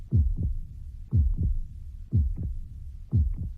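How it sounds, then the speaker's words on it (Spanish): A heartbeat sound effect thumps in four evenly spaced double beats, each a deep lub-dub pulse, loud and close with a low hum between the beats and no voices. "Junio llegó al son de nuestros latidos."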